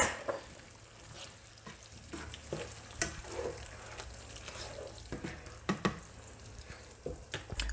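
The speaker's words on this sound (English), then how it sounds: "I'm going to let this simmer for about 10 minutes" Beef stroganoff with beef broth simmers and sizzles steadily in a pan, a soft continuous bubbling hiss broken by occasional clinks and scrapes of a utensil, fairly close and with no voices.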